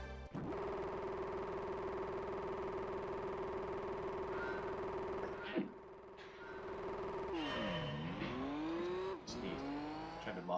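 A Nismo 400R in Gran Turismo 3 holds a loud, sustained engine drone, cuts off briefly, then revs back up in rising sweeps with a harsh, close, steady roar and no talking.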